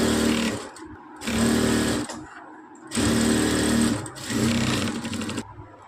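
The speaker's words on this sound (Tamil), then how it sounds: "ஸோ இந்த மாதிரி எட்ஜஸில் ஒரு தையல் போட்டுக்கலாம்." A sewing machine stitching along the edges of a blouse sleeve lining runs in repeated close bursts, each about a second long and separated by brief pauses.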